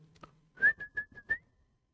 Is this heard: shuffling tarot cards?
no